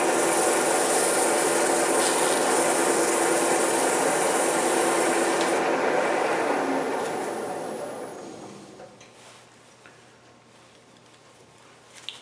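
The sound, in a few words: sanding a wooden mushroom birdhouse on a lathe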